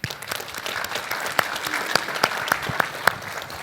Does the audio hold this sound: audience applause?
yes